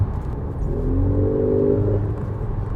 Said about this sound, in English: This is also equipped with an exhaust mode